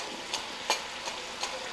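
Snacks for a breakfast or evening treat frying crisply in hot oil, a steady soft sizzle broken by four light crackling pops spaced evenly, heard close and fairly quiet with no talking.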